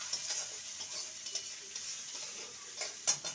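One medium onion, finely chopped, fries lightly in a pan for spiced pointed gourd fry, a faint, close sizzle with small stirring ticks over a short span.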